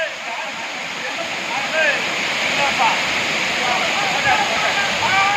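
Megam waterfall in the Kalvarayan hills pours in a steady, broadband rush close by, with faint voices of people bathing and chattering in the background.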